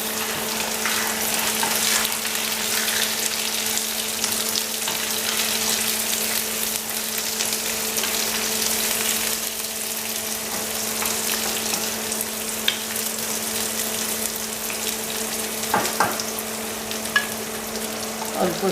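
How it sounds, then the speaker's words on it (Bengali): Zucchini fries in a pan with oil in a home kitchen, giving a continuous loud sizzle with stirring and scraping over a steady low hum. No one speaks. "এখন দিয়ে দিচ্ছি জুকিনি।"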